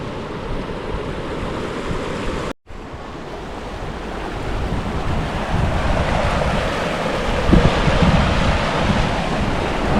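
Rushing water of the Guadalevín river in the Sierra de las Nieves roars steadily and loudly, a dense continuous wash with wind buffeting the microphone and a brief dropout early on.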